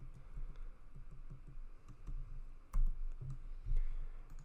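Typing on a computer keyboard while entering text into a mobile app prototype, quiet irregular key clicks close by with a couple of heavier taps.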